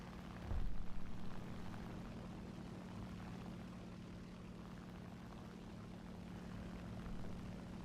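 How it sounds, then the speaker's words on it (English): Biplane propeller engine in War Thunder, a steady droning hum with a brief louder burst near the start, continuous and moderately loud, no voices. "A little biplane."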